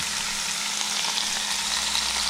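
Baby back ribs sizzle on a George Foreman grill, a steady close frying hiss that holds evenly throughout with no talking.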